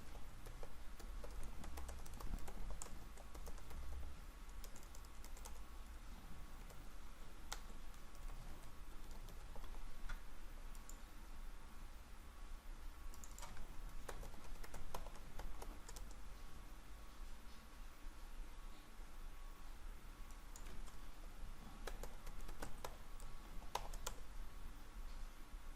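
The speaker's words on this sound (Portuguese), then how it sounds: "Vou tentar digitar na mão aqui." Someone types by hand on a computer keyboard, a quiet, steady patter of key clicks with occasional sharper taps, continuing throughout without speech.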